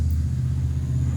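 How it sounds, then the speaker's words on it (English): A work truck with a chromed-out motor rolls past, a steady low engine rumble holding at even loudness throughout with no voices. "Yeah, that's that truck. I don't know if you'll see it pass. It's a work truck."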